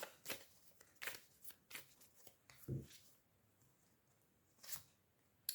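A tarot card is drawn from the deck: several soft papery swishes and taps of cards being handled, spaced out and close, with quiet pauses between them.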